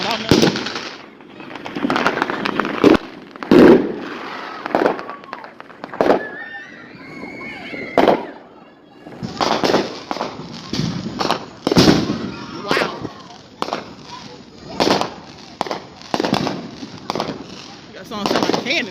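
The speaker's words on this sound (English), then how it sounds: "And all these cannons going off, all this smoke." Fourth of July fireworks, firecrackers and cannon-like blasts go off outside in repeated sharp bangs and crackling bursts at uneven intervals, some close and loud, with a person talking in between.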